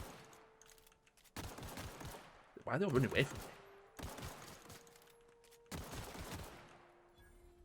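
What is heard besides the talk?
gunfire in a video game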